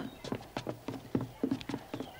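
Horse hooves clip-clopping in a steady, quick rhythm, fairly faint and close, with no talking, in a Western setting.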